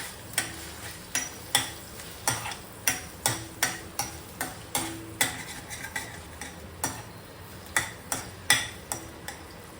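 Ghee-coated mixture for stuffed shahi tukda being stirred in a pan, with a steady run of sharp spoon scrapes and clinks against the metal about twice a second over a low sizzle.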